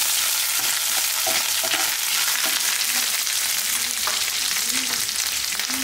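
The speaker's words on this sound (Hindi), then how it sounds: "अब मैं इसमें ये जिंजर डाल रही हूँ, 1/2 इंची जिंजर है बारीक, रेड चिली, ये 2 से 3 ग्रीन चिली" Ginger, red chili and two or three long-cut green chilies fry in hot oil with mustard seeds for a sweet-and-sour pumpkin curry, a steady close sizzle with faint stirring clinks and no talking.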